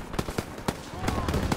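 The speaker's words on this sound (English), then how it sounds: "Gunfire! We must be near our guys." Rapid gunfire crackles in the World War II shooter Call of Duty WWII, a string of sharp, closely spaced shots with a faint voice underneath.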